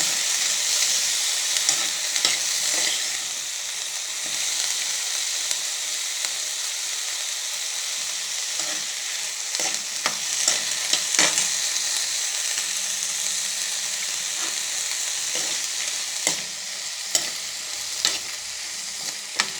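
Tomatoes fry steadily in a hot pan until soft, a continuous close sizzle with occasional stirring scrapes and clicks throughout, no voices.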